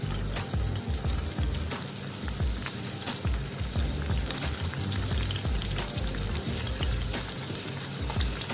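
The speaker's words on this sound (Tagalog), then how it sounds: "nilipat lang natin dito guys ang ating pork para medyo ma-fry na" Pork pieces frying in a pan while cooking adobo, a steady loud sizzle with crackling bursts and occasional stirring scrapes, continuous throughout with no talking.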